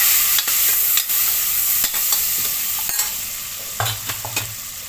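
A spoon stirs tomatoes with turmeric and red chilli powder in a pan of hot tadka for red masoor dal, steady sizzling under repeated sharp scrapes and taps against the metal, close and fairly loud, with no voices.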